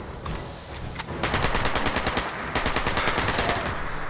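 Rapid bursts of Fallout 76 gunfire, a sparse shot or two then sustained automatic firing that pauses briefly and resumes, loud and close.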